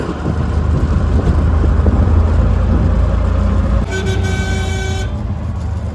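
Road noise and a rumbling engine from inside a moving auto rickshaw, with a sustained car horn blaring near the end amid traffic.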